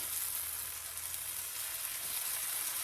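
Low-carb apple pecan pancake batter sizzles in a hot skillet, a soft, steady crackling hiss with no talking, quiet and continuous throughout.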